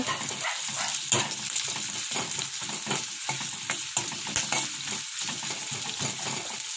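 Onions frying in a kadai (wok), a steady close sizzle with bursts of stirring and scraping that continue without pause.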